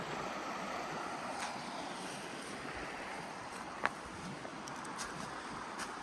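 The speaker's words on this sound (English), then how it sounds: "river, the water source, and white noise for tonight." Steady, quiet rush of a flowing river along the Benton MacKaye Trail, a soft continuous wash of white noise with a faint click partway through.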